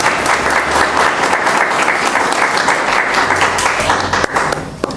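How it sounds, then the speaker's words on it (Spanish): A church congregation bursts into loud, sustained welcoming applause, a dense wash of many hands clapping close and steady throughout, with no speech over it. "Démosle ese fuerte aplauso de bienvenida."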